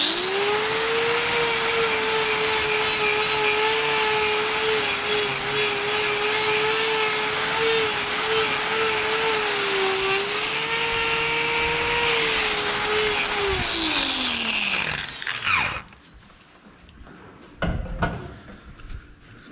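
A power tool grinds down a cow's hoof claw during trimming, a loud, steady high whine that wavers slightly in pitch, then spins down and stops, followed by a few faint knocks.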